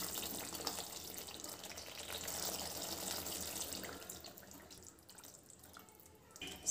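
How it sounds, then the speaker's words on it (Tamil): Water pours in a steady hissing stream into a pot of egg gravy, then tapers off into quieter splashing near the end. "இப்போ நம்ம வந்து குழம்புக்கு தேவையான அளவுக்கு தண்ணி சேர்த்துக்கலாம்"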